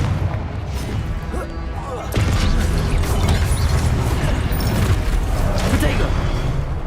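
Fiery Confringo spell blasts from the Hogwarts Legacy video game boom in a sudden loud burst partway through, followed by sustained rumbling, crackling impacts over a busy mechanical background, with a voice talking throughout.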